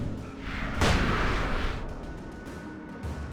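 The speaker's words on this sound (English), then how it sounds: "That exploded right into the one's face." A sudden loud blast in the video game Alan Wake Remastered, a sharp boom followed by a rumbling decay that fades over a couple of seconds.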